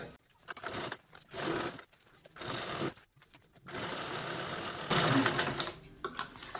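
A sewing machine topstitching fabric from old clothes into a shoe organizer, running in several bursts of rapid mechanical stitching with short pauses between runs, close and fairly loud.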